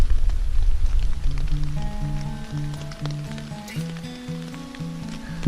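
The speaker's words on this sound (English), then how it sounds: "Just watching the rain hit the lake from inside my tent." Steady rain patters and hisses across a lake, heard from inside a tent, with low tonal hums and musical notes running underneath throughout.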